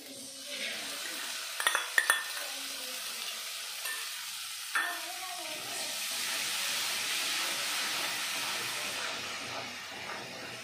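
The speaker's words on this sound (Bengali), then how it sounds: "এখন আমি দিয়ে দেবো বেটে রাখা কাজু আর পোস্ত বাটা।" Cashew and poppy seed paste dropped into spiced oil for a vegetarian cauliflower curry, with a steady close sizzle and frying hiss, a few clinks of utensils early on and stirring scrapes; no one speaks.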